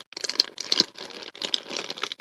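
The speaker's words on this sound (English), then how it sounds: "sorry about the crinkle noise." Plastic packaging crinkles and rustles up close in quick, irregular bursts while Texas toast pizza bits are being made, with two short clusters of crackling separated by a brief pause.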